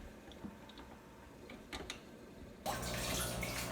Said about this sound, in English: there's a little bit of water shooting out as this pump is draining this barrel and sending it to the system